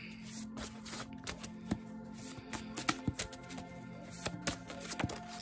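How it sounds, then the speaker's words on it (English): Tarot cards shuffled by hand in quick, irregular flicks and riffles, close but quiet, with no voices. "Let me shuffle this up a little bit."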